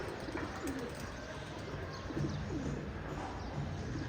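Pigeons let out to fly after a long time coo softly a few times at some distance, faint against a steady background hiss.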